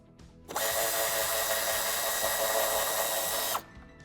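A power tool tightens a bolt on the original ground point inside a 2019 BMW 3 Series Touring (G21) during tow hitch wiring, a steady whirring buzz of about three seconds standing alone against a quiet background.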